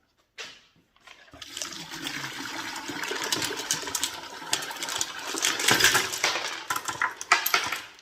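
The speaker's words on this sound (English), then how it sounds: "Oops, the big rocks making a splash" Big rocks splash and clatter into thick rock-tumbler slurry while a 12 lb Lortone tumbler barrel is washed out, giving close, wet sloshing with hard stone knocks that build toward the end.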